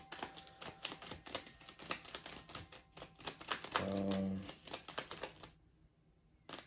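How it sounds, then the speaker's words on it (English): A deck of cards is shuffled close by in a quick, irregular run of crisp riffling snaps, broken by a brief low hum before the pattering resumes and then stops; a voice murmurs briefly. "I don't know why I'm shuffling them like tarot cards."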